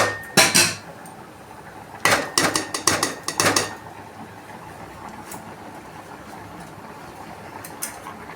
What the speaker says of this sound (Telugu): బెల్లం వేసి బాగా కలబెడితే బాగా కరిగిపోతుంది అనమాట.